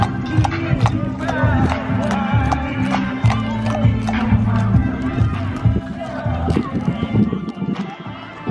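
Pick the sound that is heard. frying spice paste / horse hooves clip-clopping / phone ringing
horse hooves clip-clopping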